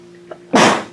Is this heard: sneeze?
yes